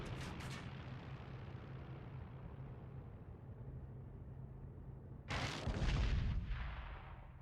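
Flak anti-aircraft fire in IL-2 Great Battles, with a few sharp bursts at the start, then a steady engine-like drone and a heavier cluster of booming detonations near the end, fairly faint overall.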